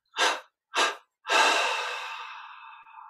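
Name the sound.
slow deep breathing through the nostrils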